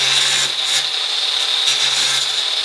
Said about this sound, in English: The grinder. Set this down, push that up, and I just nick it and grind it.